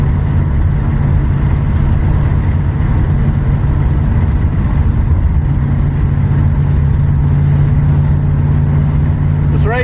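A farm truck drives along with a steady low engine drone and road rumble, the driver working the loose steering to keep it straight; the engine noise runs continuously and fairly loud throughout.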